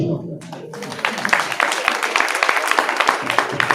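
An audience at a religious discourse bursts into clapping, rising after a brief pause into a dense, sustained patter of many hands that continues steadily to the end, with some voices mixed in.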